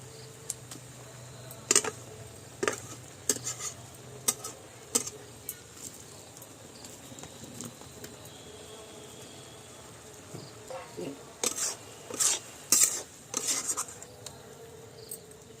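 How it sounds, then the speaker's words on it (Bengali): Carrot halwa is taken off the heat and poured into a bowl, with scattered metallic clinks and scrapes of a spoon against the pan, some in quick clusters, over quiet kitchen background. "নামিয়ে দিচ্ছি হয়ে গেছে এবার বাটিতে ঢেলে নিচ্ছি"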